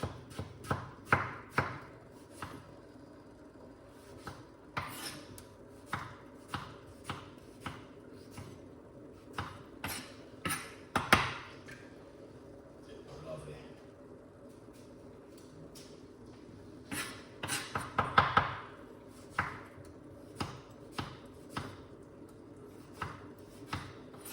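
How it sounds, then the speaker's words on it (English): Knife chopping vegetables such as tomato on a board, a long series of sharp, fairly close taps in uneven bursts with short pauses between runs, with no talk over them. "Do not do what Chef Ricardo doing and cut up your vegetable like that."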